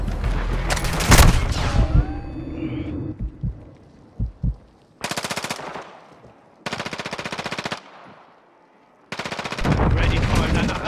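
Automatic gunfire in a Call of Duty: Modern Warfare II match comes in loud, close bursts of rapid shots separated by short pauses, with brief game voice lines between the volleys.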